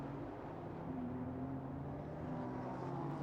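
Race car engine at Fuji roaring past close by, a dense, loud, steady rumble with a strong low drone that holds throughout the brief pass, no voices over it.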